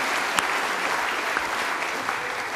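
Audience applause fills a hall at the final United Conservative Party of Alberta leadership debate, a steady dense clatter of many hands at moderate loudness with a few sharper individual claps standing out.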